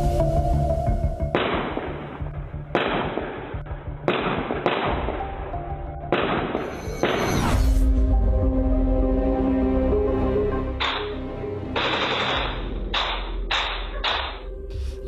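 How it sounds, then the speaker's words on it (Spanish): Several loud bursts of rapid gunfire crack out in separate volleys aimed at a house, with short gaps between them and a rumbling echo. "verdaderas ráfagas de balas, decenas de disparos en contra de una casa"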